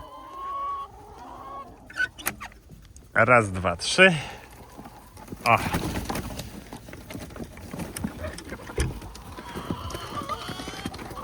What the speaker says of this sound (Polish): Ja już wiem i już wiem, że kury lecą.